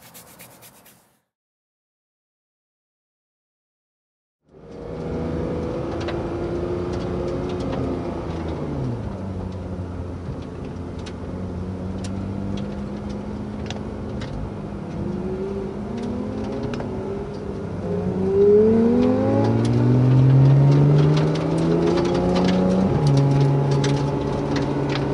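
Porsche 991 GT3 sports cars accelerate along a Smoky Mountains road, engine notes rising and falling through gear changes and building to loud, high-revving sweeps after a brief silence at the start.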